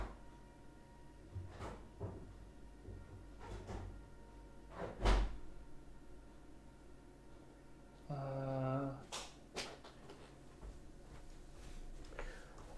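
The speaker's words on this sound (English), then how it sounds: "Someone's just casually, like, cutting down his front door." A wooden front door is chopped in Minecraft with a few sharp, spaced knocks, one louder thud near the middle and a brief tonal block-breaking burst, set over a quiet background.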